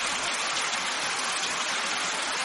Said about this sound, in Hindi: जोर जोर से बारिश पड़ रही है